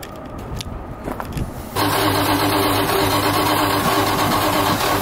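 A 1978 Dodge Power Wagon truck engine cranks briefly, then catches and settles into a loud, steady mid-pitched idle that continues to the end.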